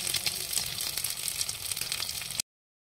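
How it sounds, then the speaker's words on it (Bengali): An egg fries in a pan on a gas stove, giving a steady, close, loud sizzle with soft crackles that runs alone and stops abruptly near the end. "ডিমটা ভেজে নিলাম।"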